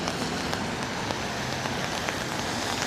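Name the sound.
rain falling in New York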